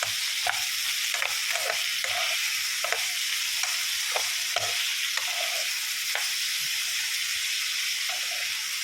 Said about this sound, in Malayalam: ഇതെല്ലാം കൂടി ഒന്ന് ഇളക്കി യോജിപ്പിക്കും